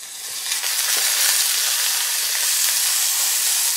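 Prawns sizzle and fry in a hot pan for a quick stir fry, a steady loud hiss with a brief stirring clatter near the start and no voices.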